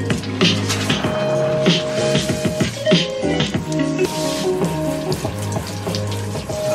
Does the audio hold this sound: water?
yes